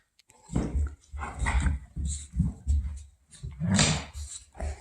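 Dogs whimper and yelp in a run of short, fairly close bursts, with whiny cries and a few sharper bark-like calls separated by brief pauses.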